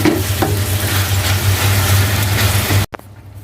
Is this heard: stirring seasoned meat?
yes